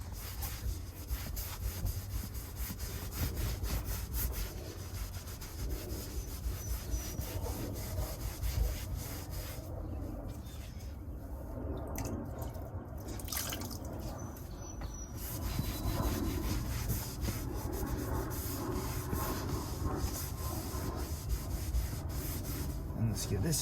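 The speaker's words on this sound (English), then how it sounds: "Okay, now let me do the side bolster. Same thing, just rub at it." A white Tesla seat's side bolster is rubbed and scrubbed by hand, giving a steady close scratchy friction sound in quick repeated strokes, dipping briefly partway through before resuming.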